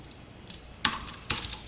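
Keys clacking on a computer keyboard while code is typed, a few quick distinct strokes in small bursts, close and fairly quiet with no talking.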